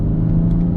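Toyota Supra with an aftermarket intake, catted downpipe and catback exhaust, heard from inside while driving: a steady, loud, low engine drone and rumble with a faint whir of intake noise above it.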